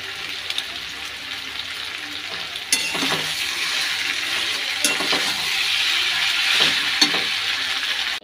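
Onion and curry leaves sizzle in a pan while pasta is being made, a dense steady frying hiss that grows louder after a couple of seconds, with occasional stirring scrapes and clinks.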